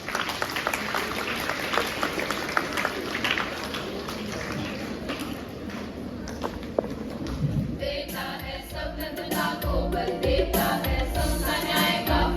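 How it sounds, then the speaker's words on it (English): A school assembly audience claps through a Founder's Day programme, a steady wash of applause that swells near the end. "Please welcome the students of group song with a big round of applause"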